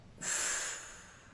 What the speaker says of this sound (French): soufflez fortement par la bouche en lançant votre poing